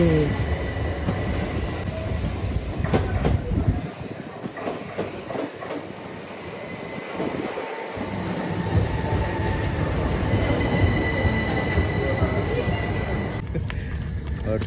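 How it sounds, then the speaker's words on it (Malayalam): A train rumbles close by, wheels clattering and squealing on the rails, with a low roar that shifts and builds throughout. "ആ അതെ ട്രെയിൻ വരുന്നുണ്ട്"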